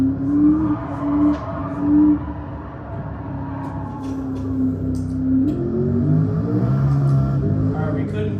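A car engine revs and drones steadily in Gran Turismo 7 while the driver tries to drift it around a track corner, its pitch rising and shifting over about eight seconds, loud and continuous with speech mixed in.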